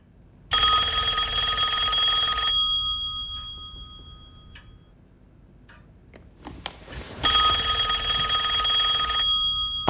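An old-style telephone bell rings loudly in two long bursts near the start and end, with quieter clinks and knocks in between.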